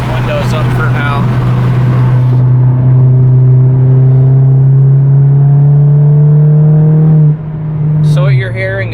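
Inside the cabin of a Stage 3+ big-turbo MK7 GTI making 450 hp, a steady engine drone climbs slowly in pitch under acceleration, then drops off. A person talks over it at the start and end.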